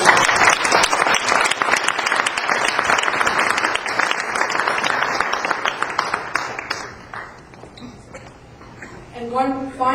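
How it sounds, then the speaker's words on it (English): Crowd applause at a business reception in Toronto, a full round of dense clapping that fades toward the end before a voice starts speaking. "I would like the crowd to join with me and give you a round of applause."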